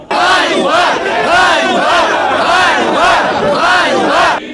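A large crowd of athletes protesting against the governor in Zhytomyr shouts in rhythmic unison, a repeated chant rising and falling in loud, steady waves.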